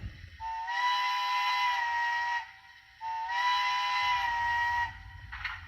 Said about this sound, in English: That's the train so far